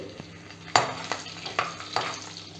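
Slit green chilies dropped into hot oil over a very low flame, a steady soft sizzle broken by several sharp stirring clinks and scrapes of a spoon against the pan, with no talking.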